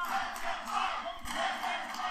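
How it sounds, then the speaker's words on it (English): Arena crowd at a WWE NXT wrestling show, a loud sustained roar of massed voices with rising shouts and chant-like swells, rowdy and continuous throughout. "You can hear the crowd wants him to keep going"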